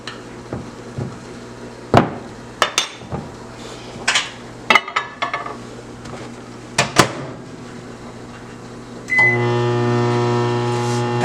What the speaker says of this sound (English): we're going to put it back in the microwave for another 5 minutes